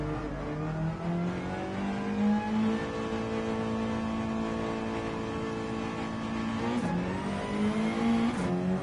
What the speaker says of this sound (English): I do applaud the engine sounds that they have now.